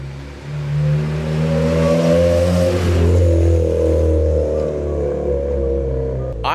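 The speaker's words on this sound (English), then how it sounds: "I hear Parsa and I can see his car" A car engine hums loudly and steadily, its pitch rising as it revs up and then settling back, close by and continuous.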